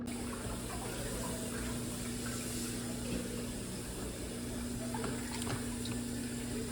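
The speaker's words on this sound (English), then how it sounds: "we have to add more water." Water running into a cooking pot of potatoes and carrots, a soft steady trickle with a faint constant hum behind it and a few small clinks, fairly quiet and without speech.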